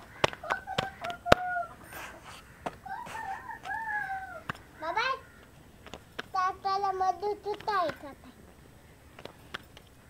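A rooster crows several times, loud and nearby, its calls rising and falling, with sharp knocks and clatter scattered between the crows.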